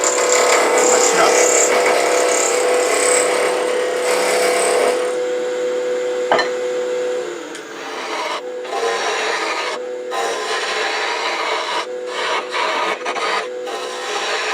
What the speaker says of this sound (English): Alright, now I'll put a tenon on it.